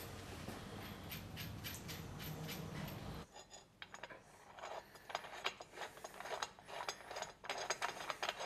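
A crank puller tool works a square tapered BMX crank off the spindle, first with a steady grinding turn, then a run of rapid ratcheting clicks, close and fairly quiet, no talk.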